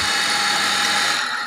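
A water pump's electric motor runs with a steady, dense whir, close and continuous, with no talk over it.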